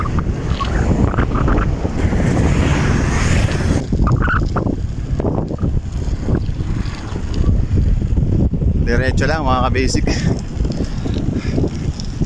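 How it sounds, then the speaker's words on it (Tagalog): Steady, loud wind buffets the microphone throughout on a mountain road in Dingalan, Aurora, with someone talking over the gusty rumble. "Malakas yung hangin dito"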